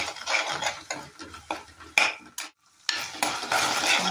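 Tomato sauce and spices are mixed in a pan with a spatula, giving uneven scraping and clinking strokes over a soft sizzle, with one brief silent pause.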